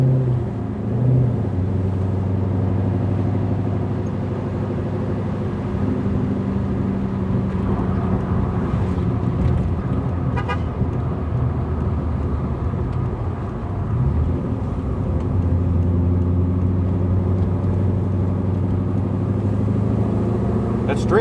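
Engine drone from a Porsche 944 fitted with an LS V8, heard from inside on a drive as a loud, deep, sustained rumble with shifting tones, while people talk over it.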